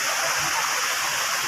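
Cold water flows in a stream at Alimatok, a loud, constant rushing hiss with no break over the short stretch.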